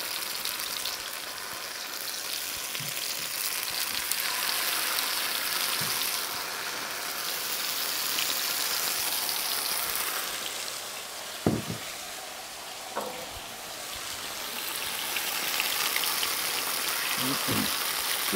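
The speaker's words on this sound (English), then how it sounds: "These will take about 20 to 30 seconds on each side to sear." Tortillas dipped in red chili marinade sear in a hot pan with a steady, soft, even sizzle throughout, a few light clinks and taps breaking through near the middle and end.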